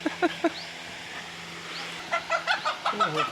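An Aseel rooster clucks in short, sharp bursts at close range, followed by a run of quicker clucking calls with a faint background hum.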